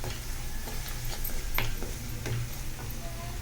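Masala spices with turmeric powder frying in a pan for an aloo gravy, a steady close sizzle with light scraping and ticking stir strokes throughout, no voices.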